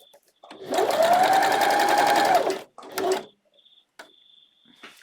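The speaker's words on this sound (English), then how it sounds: "I've finished sewing the top stitch of my elastic for the leg bands now" A sewing machine top-stitching elastic leg bands on swim bather bottoms runs in one steady close whirring burst of about two seconds, then a short second burst, followed by faint clicks and quiet handling.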